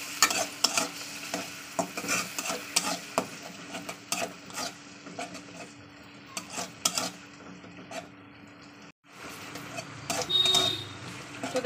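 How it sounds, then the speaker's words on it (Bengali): Spice paste with ginger and garlic frying in a pan, a soft continuous sizzle broken by spoon scrapes and clinks against the pan, a brief dropout near the end before the sizzle resumes. "দেখতে পাচ্ছেন মশলাটা দেওয়ার পর আবার একটু ভাজা করতে হবে, যাতে আদা রসুনের গন্ধটা চলে যায়।"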